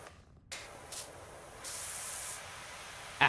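A pressure washer sprays in the video game PowerWash Simulator 2, giving a soft, continuous hiss with short bursts and a longer sustained blast, heard quietly and close.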